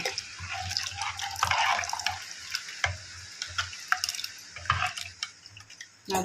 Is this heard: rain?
yes